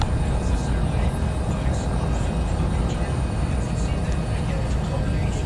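A Cessna 172 engine in X-Plane 11 flight simulator drones steadily, a loud continuous low rumble with broadband noise, holding constant across the clip.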